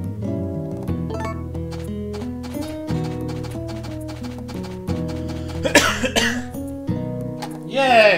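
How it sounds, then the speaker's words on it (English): A short, throaty cough sound effect from the farming video game Harvest Moon: A Wonderful Life, heard as a couple of noisy bursts over steady, tuneful background game music. "Coughing is fun."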